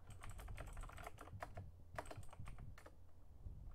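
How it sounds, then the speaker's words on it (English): Fingers type a password on a computer keyboard, a quick, close run of light key clicks in irregular bursts that lasts a few seconds, with no speech. "Let's type in a very secure password again."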